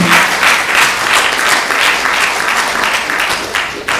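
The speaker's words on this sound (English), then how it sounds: "give yourselves a big round of applause" A retreat audience bursts into a big, dense round of applause, loud and sustained throughout with no voices standing out.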